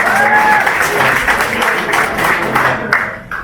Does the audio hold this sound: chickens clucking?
no